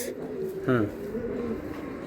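A soft coo from a caged pigeon for sale rises briefly in the middle, close and low-pitched, over a quiet background murmur.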